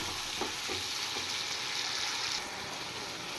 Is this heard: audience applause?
no